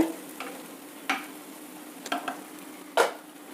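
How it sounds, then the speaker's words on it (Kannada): A spoon scrapes through cooked moong dal and vermicelli in a pan in a few separate strokes over a faint, low sizzle, with no talking. "ಇದು ಬೇಯಿಸಿಟ್ಕೊಂಡಿದ್ದ ಹೆಸರುಬೇಳೆ ಅದನ್ನು ಮಿಕ್ಸ್ ಮಾಡ್ತಾ ಇದ್ದೀನಿ"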